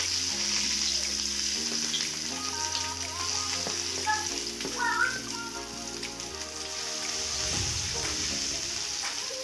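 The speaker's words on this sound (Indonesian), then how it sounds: "Ini bawang kita tumis." Onion sautéed in a pan with a continuous close sizzle and occasional stirring scrapes, a low hum running underneath.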